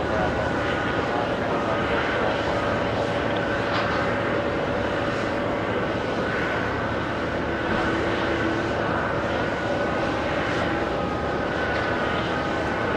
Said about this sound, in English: Delta 767. Flying in from Los Angeles, LAX, Delta 324.